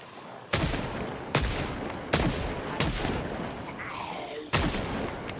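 Sharp gunshots from Project Zomboid, five separate booming reports spaced about a second apart as zombies are shot, each with a short echoing tail; no voices.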